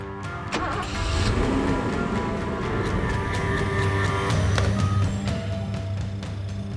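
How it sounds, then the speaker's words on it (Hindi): A car engine idles steadily with a low continuous rumble, accompanied by intermittent beeping and clicks, with no speech over it. "गाड़ी चालू रखना"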